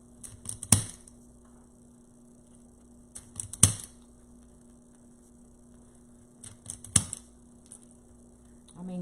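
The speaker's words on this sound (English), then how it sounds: "and tighten the zip ties." A zip tie gun cinching plastic zip ties on a handmade gnome wreath, three sharp mechanical ratcheting snaps spaced about three seconds apart, close and fairly quiet over a faint steady hum.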